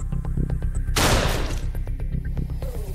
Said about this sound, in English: Stephen shot Bob in the chest